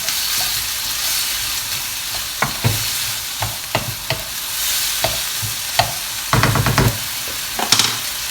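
Mince and tomato frying in a pan while being stirred, a steady sizzle broken by repeated scraping strokes and a louder burst of stirring near the end, close and alone with no voices.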